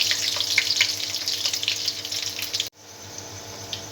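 Garlic and cumin frying in a hot pan, a bright crackling sizzle that runs steadily close up, then cuts off abruptly and drops to a quieter low hiss.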